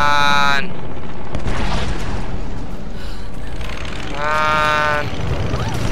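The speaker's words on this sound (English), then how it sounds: "It's a plane!" A loud, roaring video game aircraft engine, a crashing plane in Tomb Raider, with a sharp whining tone that fades and then surges again, close and turbulent.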